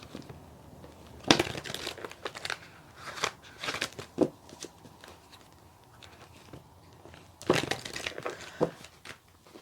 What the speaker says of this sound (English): let's give the cards another shuffle